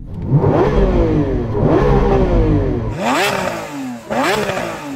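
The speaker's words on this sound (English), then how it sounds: "Mark, do you want to rev up your Aventador?" A Lamborghini Aventador SVJ's V12 engine revs hard several times, loud and close, with rising, falling howls and sharp blips in quick succession.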